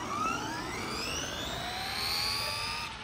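A Traxxas Stampede 4x4 RC car on a speed run gives a steady high electric whine that rises in pitch as it accelerates, heard alone without talk.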